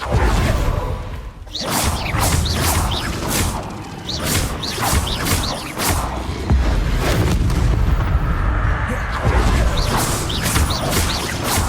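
Bombarda explosion spells cast in Hogwarts Legacy, a rapid series of loud booming blasts and crashes with whooshing impacts, repeated every second or so over a continuous rumbling bed.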